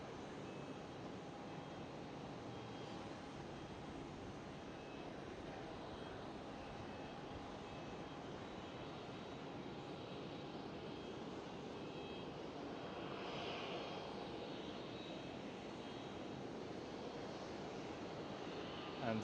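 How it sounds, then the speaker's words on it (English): A KLM Boeing 737 taxis in toward its gate at Amsterdam Schiphol, its jet engines giving a faint, steady distant whine and hum that barely changes over twenty seconds. "KLM 737 taxiing in"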